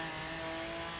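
Car engine in the racing game Forza Horizon 3, a loud, steady, tonal drone held briefly under hard acceleration, close and alone with no talk.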